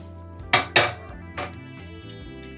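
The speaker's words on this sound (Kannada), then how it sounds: "ಕುಕ್ಕರ್ ಇಟ್ಕೊಂಡಿದ್ದೀನಿ ಸ್ಟವ್ ಮೇಲೆ." A metal pressure cooker is set down on a kitchen stove, giving a couple of close, sharp clanks followed by a softer knock, alone in a quiet room.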